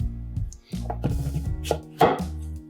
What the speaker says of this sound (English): you want a sharp knife for this. Okay, and we're gonna cut it right in half.